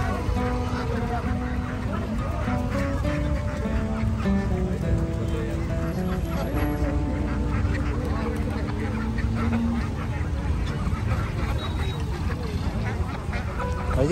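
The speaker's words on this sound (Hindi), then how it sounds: "चकोर के अलावा है बतख।" Ducks quack repeatedly at a crowded outdoor livestock and horse fair in Muktsar, the calls mixing with a dense, steady hubbub of background voices and market noise.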